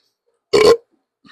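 A short, loud, close burp lasting a fraction of a second, followed by silence and a brief faint voice.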